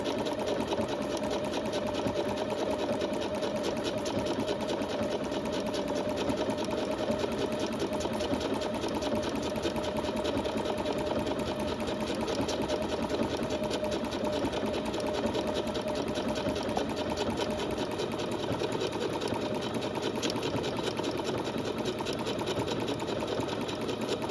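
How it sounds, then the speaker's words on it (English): A sewing machine runs a cross hem stitch without a break, a loud, close and continuous mechanical whir with rapid needle ticking as the stitch moves forward and backward. "go ahead and start sewing a cross hem stitch, and just let it do its thing. It'll go forward and backward."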